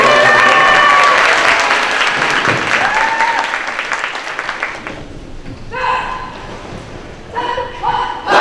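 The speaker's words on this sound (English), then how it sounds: "Let's give them a big round of applause." Loud crowd applause at a high school spaghetti dinner, honoring student captains, fading after about five seconds into scattered cheers and high voices, with a dog barking and yipping nearby.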